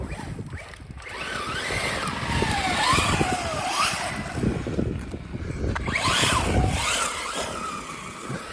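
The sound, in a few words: Slash 4x4 RC car driving on 3S battery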